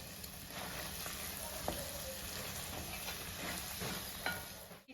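Kerala-style onion pickle frying in oil with jaggery added, a steady soft sizzle and crackle with occasional stirring scrapes, close and fairly quiet, no voices.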